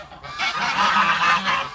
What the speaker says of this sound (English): The geese on the one side and the geese on the other telling each other something.